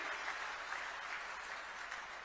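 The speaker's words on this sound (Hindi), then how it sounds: "एक बार जोरदार तालियों से बता दो कि 370 तोड़ने की खुशी हरियाणा के लोगों को कितनी है।" A crowd at a political rally in Sirsa, Haryana bursts into sustained applause, a steady wash of clapping from a large audience, distant and even for the whole stretch.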